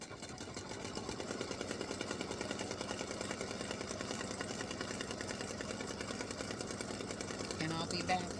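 An embroidery sewing machine stitches a vertical line on a Father's Day greeting card, running as a steady, fast mechanical whir with rapid needle clatter throughout.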